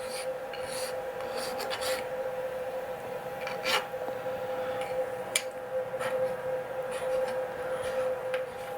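A hand file scrapes burrs off machined bronze slide valve buckles for a 7 1/4 inch gauge locomotive, a close run of short rasping strokes in uneven bursts over a steady background hum, with no talking.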